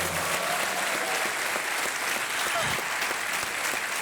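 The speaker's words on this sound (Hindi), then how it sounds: "तालियां बज जाए" A large studio audience on a televised quiz show claps loudly and continuously, a dense, unbroken roar of applause with no pauses over four seconds.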